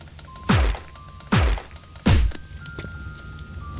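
Three evenly spaced heavy digging thunks ring out one after another as blocks are mined in a game, each with a deep thudding low end, with a faint tone sounding in the background.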